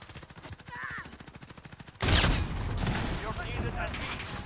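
Video game shooter gunfire on PS5 starts as rapid, evenly spaced automatic bursts, then a loud blast and heavy mixed firing and booms take over, with voices calling out amid the battle.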